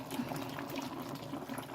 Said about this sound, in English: We're gonna pour a 1 can of coconut milk.